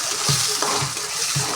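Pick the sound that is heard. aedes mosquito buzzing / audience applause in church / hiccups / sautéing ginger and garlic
sautéing ginger and garlic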